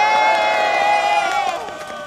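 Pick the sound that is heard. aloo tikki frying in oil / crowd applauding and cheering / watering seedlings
crowd applauding and cheering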